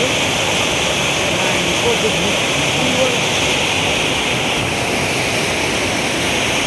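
Water rushing past an earthen dam embankment at Kolegaon, a steady loud broadband roar of flowing water that continues without break throughout, close to the microphone.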